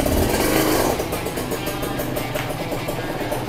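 A Kawasaki Ninja RR motorcycle engine runs close by, loud at first, then dropping slightly and settling into a steady rough drone with no voices over it.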